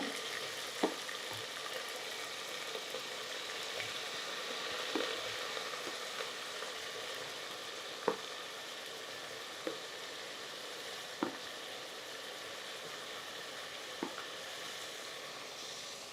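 Spices and chillies tempering in hot oil for horsetail millet sambar rice give a steady, close sizzle with scattered small pops throughout.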